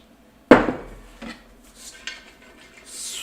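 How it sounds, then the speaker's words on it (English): Water goes into a hot pan of Japanese short ribs and hits with one loud sudden sizzling splash, then fades into a soft hiss with a few light clinks of metal. Nobody speaks over it. "add a touch of water right into here"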